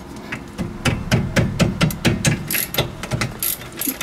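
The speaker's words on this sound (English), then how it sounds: "First of all, we take off the caliper bolts." A ratchet clicks repeatedly as brake caliper bolts are loosened on a 2008 Hyundai Santa Fe, a close run of sharp metallic ticks in uneven bursts.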